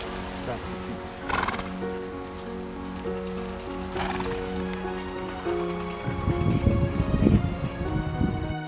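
A horse at a hippotherapy session for children with disabilities, heard nearby with soft snorts and shuffling movement, while people talk in the background and a louder burst of movement or shaking comes near the end.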